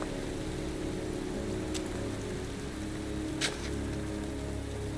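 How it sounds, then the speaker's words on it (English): Steady rain pours down in a cemetery in the video game Heavy Rain, a dense continuous hiss with a couple of brief sharper splashes and no voices. "It's cold. It's raining. I'm standing outside getting soaked."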